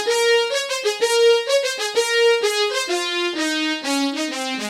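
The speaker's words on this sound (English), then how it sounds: "So the synth brass by itself sounds like this." Synth brass patch on a Roland FA-07 workstation plays a theme melody alone, bright layered sustained notes stepping through the phrase with steady loudness and no voices.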